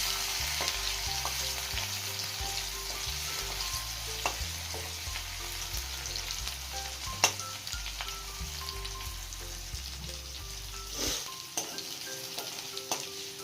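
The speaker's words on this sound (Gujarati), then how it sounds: "તો તેલ ગરમ થઈ ગયું છે, તો આપણે એમાં આદુ મરચાં અને લસણની પેસ્ટ થોડી સાંતળી લઈશું." Ginger, chili and garlic paste sautéing in hot oil gives a steady, close sizzle and crackle throughout, with occasional sharper pops and spatula scrapes.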